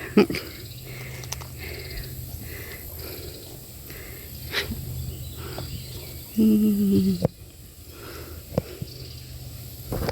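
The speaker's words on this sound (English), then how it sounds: "Bees are just bumblebees buzzing around this lemon basil." A low bumblebee buzz drones close by around lemon basil in a garden for a couple of seconds, then stops abruptly, over a soft outdoor background with faint clicks.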